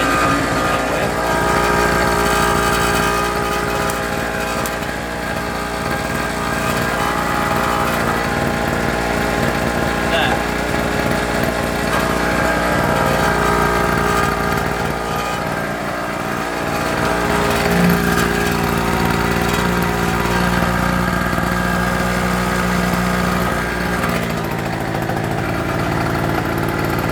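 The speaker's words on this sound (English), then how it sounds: "That, my friends, is a Medusa T951 two-stroke generator." A SIP Medusa T951 two-stroke generator runs continuously with a loud, buzzy, slightly rattling engine drone, close by, while someone talks over it.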